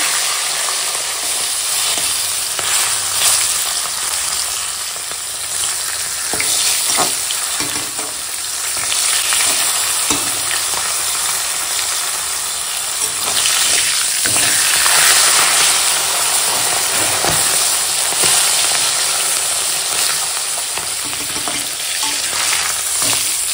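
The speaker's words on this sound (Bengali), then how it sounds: "তেল এখন গরম হয়ে গেছে, এখন মুড়োটা ভেজে নেবো।" Steady, loud sizzling and crackling of a rohu fish head frying in hot oil, continuous throughout with occasional sharper spits and pops.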